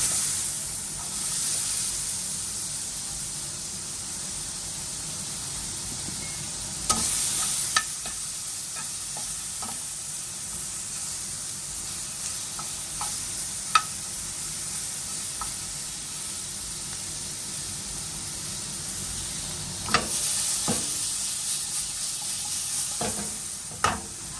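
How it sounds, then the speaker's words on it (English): Onions sautéing in a pan during weeknight meal prep give a steady soft sizzle and hiss throughout, broken by a few sharp clatters as they are stirred. "I'm gonna saute these too. Go ahead and throw in those onions"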